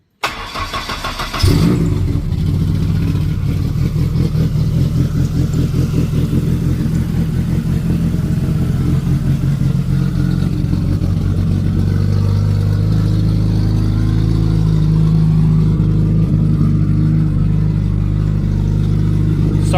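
A 500hp Zetec engine in a Ford Escort fires up with the exhaust actuator open, then settles into a loud, rough, lumpy idle that keeps running steadily and close by, with no one talking.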